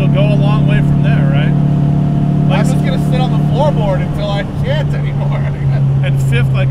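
A modified 1968 Porsche 912 engine pulls in fourth gear, its steady low drone holding throughout while people talk over it inside the car.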